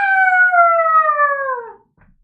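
A person howls like a wolf, imitating the animal with one long, loud, slowly falling tone lasting about two seconds before stopping abruptly into silence.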